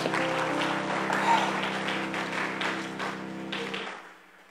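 A church congregation claps in applause for the Lord while a sustained musical tone holds underneath. The clapping fades toward the end.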